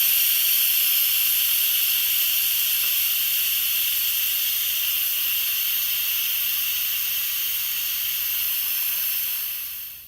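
Steady, loud hiss of steam venting from a pressure cooker after cooking ribs, continuous for about ten seconds and trailing off at the very end, with no talking.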